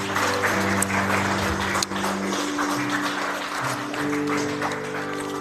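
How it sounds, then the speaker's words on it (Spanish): A Sunday church congregation in Mula claps together for the Lord, dense applause carrying on for several seconds over sustained organ or keyboard chords. "Dale un fuerte aplauso al Señor."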